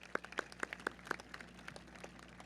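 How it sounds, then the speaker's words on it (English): A graduation audience at a high school ceremony claps in a quick, uneven burst of sharp hand claps, moderately close and fairly sparse, without voices. "Let's clap it up for your community."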